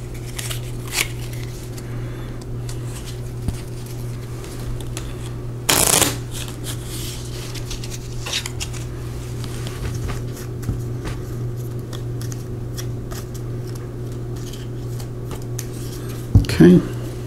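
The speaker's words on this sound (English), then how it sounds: "which means at the end of the round, I shuffle" A deck of cards is shuffled during a Gloomhaven board game: repeated riffles and card handling over a low steady hum, with a sharp shuffling burst midway and another near the end.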